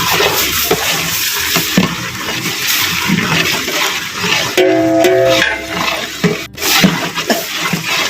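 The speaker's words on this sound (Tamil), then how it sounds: "இஞ்சி பூண்டு பேஸ்ட் வந்து நல்லா வந்து பச்சைவாடை போகிற அளவுக்கு நல்லா அது எண்ணெயில் வந்து நல்லா வதக்கிறாங்க" Ginger garlic paste fries in oil for a Chettinad vegetable biryani, a loud, dense, watery hiss and bubbling that runs the whole time, with some stirring clatter and a brief dip near the end.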